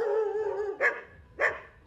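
A young Podenco dog gives two short, sharp barks, close and loud, spaced about half a second apart over a steady background hum.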